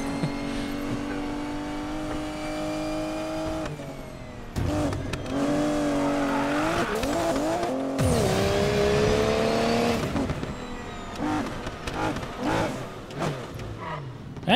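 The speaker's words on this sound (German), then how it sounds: "V12 Biturbo-Motor haben wir ja am Start." Aston Martin DB11 with a V12 biturbo engine in the racing game Need for Speed Payback, revving and accelerating loudly through rising gear sweeps, with shifts, drops in pitch and bursts of throttle, alone without talk.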